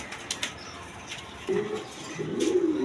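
Pigeons kept for sale give soft, low cooing calls in two short bursts, close by, with a few light wing flaps and rustles before them.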